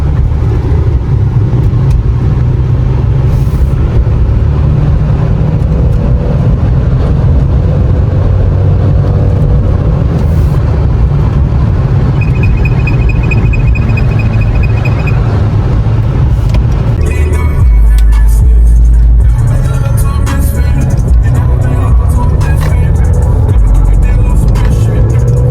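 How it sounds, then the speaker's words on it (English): A Mercedes C43 AMG cruises on clear roads at sunset, its engine a loud continuous drone with rising and falling rev changes, plus a louder low surge late on. "It's a perfect time to take the AMG out and go for a little drive."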